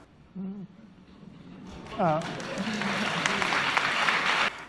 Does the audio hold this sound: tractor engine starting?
no